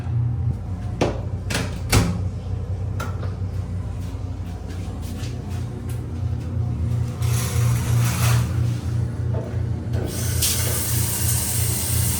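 Water runs steadily in a campground shower stall at Baraga State Park, a constant hissing spray close by, punctuated by several sharp knocks and clunks of fixtures or a door.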